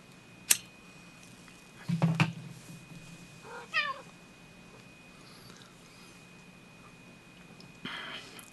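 A pet cat meows indoors in a few short calls spread across several seconds, fairly close and moderately loud, with quiet pauses between them and a faint click at the start.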